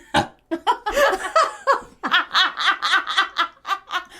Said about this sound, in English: I just let out a burp.